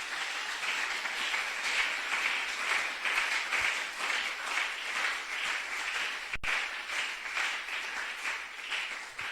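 Church congregation applauding in praise during a French-language service, a dense, sustained round of clapping from many hands filling the space, steady and fairly loud throughout.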